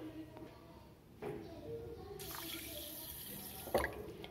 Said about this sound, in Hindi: और इसमें हम डालेंगे 1/2 कप पानी